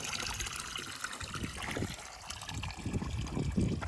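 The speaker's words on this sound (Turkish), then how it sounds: "Hem çeşmesi var hem de doğal kaynak suyu var." Ice-cold natural spring water runs from a village fountain, a continuous close splashing trickle with a steady watery hiss and no pauses.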